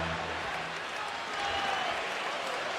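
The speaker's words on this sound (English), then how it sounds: "And this crowd on its feet." A basketball arena crowd on its feet cheering during a 2005 NBA playoff game between the San Antonio Spurs and Seattle Sonics, a dense, steady roar of voices and applause filling the whole stretch.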